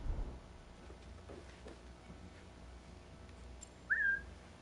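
A single short, clear whistle from a character in Assassin's Creed Shadows at Fukuchiyama Castle rises sharply near the end, over a quiet, low ambient backdrop.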